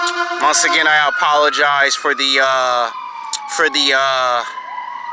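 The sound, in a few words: ambulance siren passing by a park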